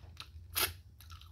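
A few sharp, close crunches of a crab shell being bitten and chewed, three quick bursts in about a second, the middle one loudest.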